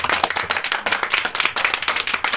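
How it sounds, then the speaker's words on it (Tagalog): A class applauding themselves after presentations, with rhythmic, close individual claps from a small group in quick uneven bursts, fairly loud and with no talk over it. "Bigyan nyo naman ng palakpak yung mga sarili natin."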